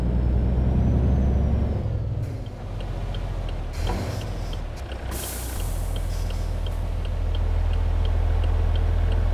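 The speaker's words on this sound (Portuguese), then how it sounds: "Até nem é mau o barulhinho do caminhão" Volvo truck in the Euro Truck Simulator 2 game, its engine rumbling loud and steady while an air brake hisses sharply midway, with a faint regular ticking running underneath.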